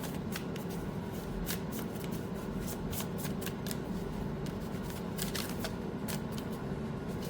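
Quiet card shuffling: repeated crisp riffles and flicks of cards in an irregular rhythm, close by, with no voices.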